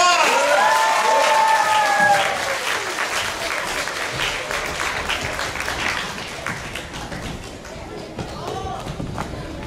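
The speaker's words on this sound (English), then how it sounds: "Give them a round of applause." A crowd applauds and cheers after a drama monologue performance by young actors, loud sustained clapping with whoops and shouts at the start, the ovation gradually thinning and softening over about ten seconds.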